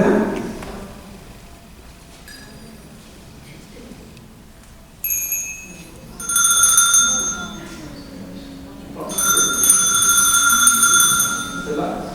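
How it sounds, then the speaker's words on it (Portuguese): A small bell rings in a few bright bursts with lingering tones, ringing out clearly in a room between stretches of quiet murmur and voices. "Ela pensou que fosse esse sininho que foi tocado."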